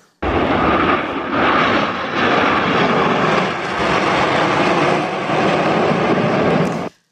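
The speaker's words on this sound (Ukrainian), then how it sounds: "таке предположення, що це літаки, які прилетіли з Росії" Aircraft engines roar loudly and steadily overhead as planes fly past at an air show, a broad continuous drone that swells and holds for several seconds before cutting off.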